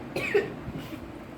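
A single short cough, close and fairly soft, followed by a quiet breathy pause.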